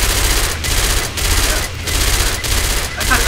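Rapid automatic gunfire in the zombie shooter Left 4 Dead 2, a loud, dense fusillade of shots in bursts with brief gaps, close and dominant throughout.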